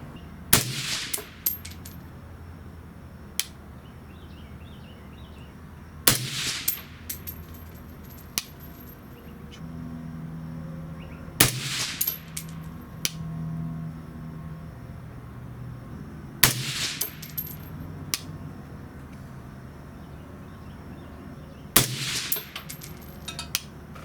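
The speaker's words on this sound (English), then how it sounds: "We'll go ahead and shoot our first 5-shot group." A 6mm ARC rifle with an 18-inch stainless steel barrel fires five evenly spaced sharp cracks at a range, each shot loud and ringing briefly, with quiet gaps between them.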